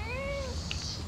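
A cat meows once, a clear rising-and-falling cry in the foreground against a low background hum.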